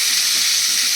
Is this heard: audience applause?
no